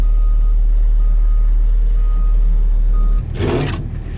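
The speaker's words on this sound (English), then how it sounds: "So I brought the skid loader down" A skid loader idles with a loud, steady low engine drone, then a burst of reversing beeps sounds close by near the end as the engine note shifts.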